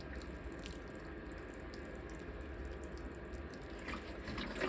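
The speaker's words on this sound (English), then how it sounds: "I got to go fill my bucket" Water running steadily from a tap into a bucket for garden watering, a continuous close hiss and splash with no talk.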